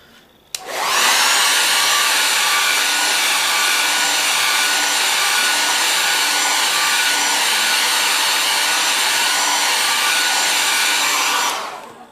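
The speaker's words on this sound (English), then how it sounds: "I'm just going to put the hairdryer on again" A hairdryer runs steadily for about eleven seconds to dry watercolour paint, a loud continuous whirring roar that switches on abruptly and cuts off near the end, with no voices.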